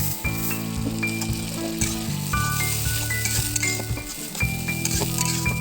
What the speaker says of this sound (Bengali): কড়ার মধ্যে আমি ঘুরিয়ে ফিরিয়ে দেখাচ্ছি কীভাবে ফুটে উঠছে।